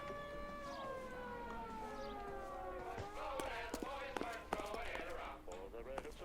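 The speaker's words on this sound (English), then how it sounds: "Oh, I hear police sirens." A wailing police siren in the game L.A. Noire rises and falls steadily in the background, with scattered thumps and clatter over it.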